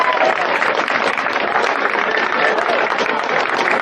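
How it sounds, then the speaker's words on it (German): A concert audience applauds loudly and continuously at a live club show, dense sustained clapping mixed with cheers and whistles filling the whole stretch. "Applaus!"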